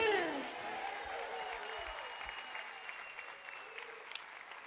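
Applause for God fills a church service, a warm wash of clapping that starts strong and gradually thins and fades over a few seconds, with faint voices beneath it.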